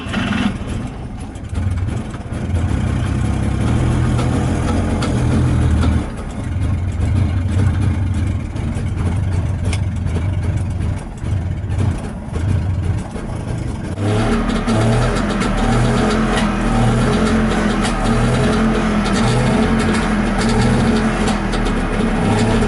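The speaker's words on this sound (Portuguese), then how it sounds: "mais do que ficar aqui dentro ouvindo o barulho do motorzinho" A 1967 DKW Vemaguete with its two-stroke engine out of tune, cranking then catching and running roughly, loud and close with an uneven, stumbling idle and bursts of revving throughout.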